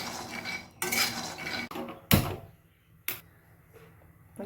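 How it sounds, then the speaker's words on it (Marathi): Peanuts roasted and stirred in a metal kadai for sesame ladoos, a few loud scraping and clanking strokes of a spoon against the pan separated by short pauses. "शेंगदाणे पण भाजून टाकायचे"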